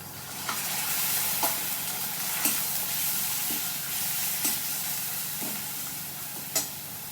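Coconut and chili paste frying in a pan for a vegetarian banana-flower dish, with a steady close sizzle broken by several sharp scrapes of stirring at irregular intervals.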